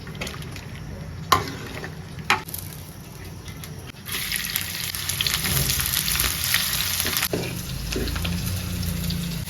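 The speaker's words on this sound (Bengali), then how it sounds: "পেঁয়াজ রসুন টালা হয়ে গেছে" Onion and garlic frying in a pan during village home cooking, a continuous sizzle that swells louder midway, with a couple of sharp clanks from stirring and no talk.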